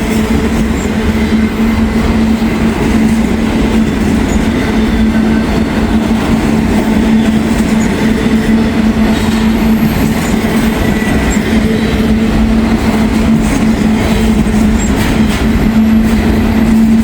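A slow freight train with loaded autorack cars rolls past in Glendale, a loud, continuous rumble with a steady low drone and faint wheel clatter, close and unbroken throughout.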